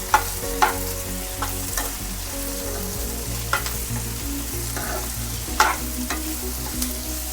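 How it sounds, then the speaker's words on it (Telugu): Tamarind, coriander and curry leaves fry in a pan for stuffed bitter gourd, giving a steady loud sizzle with a low hum beneath and occasional sharp scrapes of a stirring spoon, no voices. "చింతపండు వేసి ఈ కొత్తిమీర కూడా కొద్దిగా వేద్దాం. కరివేపాకు వేసి ఇది కొంచెం ఫ్రై చేద్దాం."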